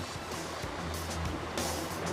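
Fire hose jets blast water onto a burning old house, a loud, continuous broadband rushing and hissing that holds steady without pause.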